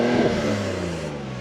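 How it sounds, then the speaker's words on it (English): A BMW Z4 with a straight-six engine and six-speed gearbox revs hard close by, a loud growling rise in pitch followed by a gradual fall as the revs drop away. "I'll let you hear the engine first"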